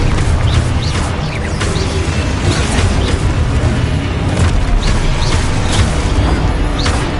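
A loud, dense barrage of magical blasts and booms in Hogwarts Legacy as a Confringo fire spell detonates amid other combat spells, continuous rumbling impacts with sharp crackling bursts throughout.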